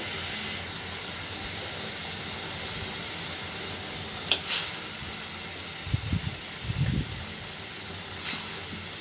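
Fish sizzle as they are added to a cooked-down spice paste for a bitter gourd and eggplant curry, a low steady hiss with a few brief louder splutters and stirring noises.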